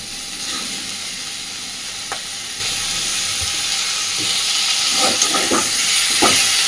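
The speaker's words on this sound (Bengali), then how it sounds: "এবার এর মধ্যে আমি দিয়ে দেবো লবণ হলুদ মাখিয়ে নেওয়া মাছের তেলটা" Fish fat seasoned with salt and turmeric hits a pan of fried potato and onion, giving a loud, continuous hiss that swells partway through, with a few soft clicks of stirring.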